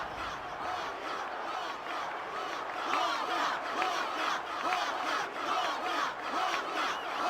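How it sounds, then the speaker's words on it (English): A stadium crowd roars and chants during a Blitzball championship match in Final Fantasy X HD, a dense, continuous swell of many voices that stays loud throughout. "So the crowd is going wild, calling for Waka."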